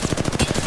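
Rapid automatic gunfire in the battle royale game Apex Legends from a teammate shooting, a loud, close, continuous burst of evenly spaced shots that fills the whole moment, with no talk.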